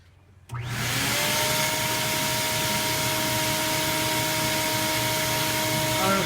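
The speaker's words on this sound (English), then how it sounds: "I'm going to vacuum out the last of what's in this cab" A shop vacuum sucks dirt out of the cab of a 1956 GMC truck, switching on abruptly after a brief quiet moment and then roaring loudly with a steady airy whine and a low motor hum.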